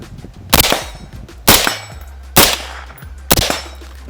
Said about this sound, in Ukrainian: Приєднали магазин, дослали патрон, стріляємо.